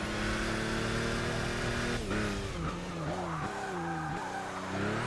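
Tires squeal steadily through corners in the racing game Forza Motorsport 6, a continuous loud skid whose pitch wavers and shifts as the car slides, with engine drone underneath and no talking.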